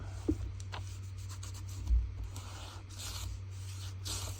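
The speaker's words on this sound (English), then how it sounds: "I'm just going to grunge that washi tape up a little bit." Washi tape on a scrapbook page being rubbed to grunge it up, giving faint, close scratchy rubbing strokes in short irregular passes over a low steady hum.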